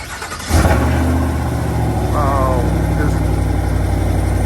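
A Chevrolet Silverado pickup truck engine cranks briefly and catches, then settles into a steady, loud idle close by.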